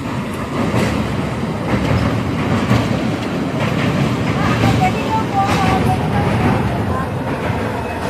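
A moving passenger train, heard from inside a carriage, gives a loud, steady rumble and rattle throughout, with faint voices mixed in.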